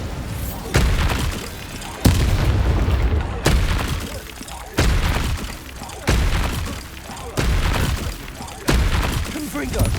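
Bombarda blasting spells explode in Hogwarts Legacy combat, a loud run of about eight booming, cracking blasts fired in close succession at a steady, rapid rhythm, each trailing off into rubble-like rumble.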